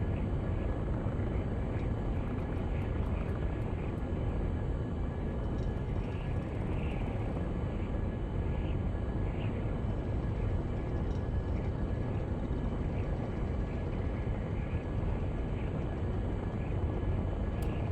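A big aircraft in a video game drones on steadily, a loud continuous broadband engine roar with faint high tonal whines, unbroken and without talk.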